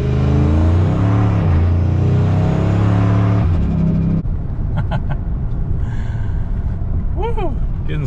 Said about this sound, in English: I thought we'd head out on the street a little bit, do a few little pulls